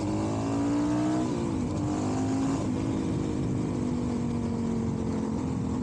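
A Suzuki DR-Z400SM dirt bike engine with factory exhaust and a 12-tooth front sprocket revs steadily and loudly close by, its pitch shifting up and down with a raspy exhaust note throughout.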